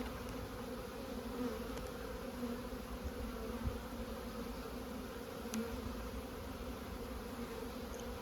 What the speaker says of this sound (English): There are bees in there searching out to turn around up some honey.